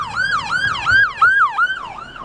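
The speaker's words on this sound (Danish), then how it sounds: "hvis du for eksempel har hørt lyden af en sirene" An emergency vehicle siren wails loud and close, its tone rising and falling in a rapid repeating sweep about four times across the stretch, with faint road rumble beneath and no talk.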